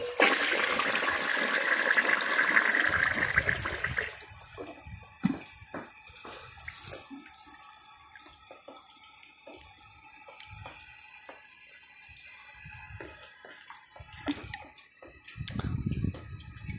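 A clogged 2002 Eljer Patriot toilet flushing: a loud gushing rush for about four seconds, then quieter trickling, drips and refill sounds, with another surge of water near the end.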